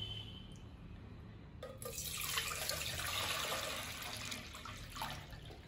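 Water is poured into a vessel to be boiled, a rushing, splashing stream that starts suddenly after a quiet moment and runs on steadily at moderate loudness, without speech.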